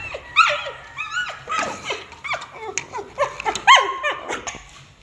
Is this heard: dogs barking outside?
yes